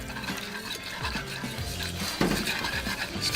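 A pot of smoked beer cheese being stirred steadily as milk is added, giving a continuous close scraping swish with faint utensil clinks against the pot.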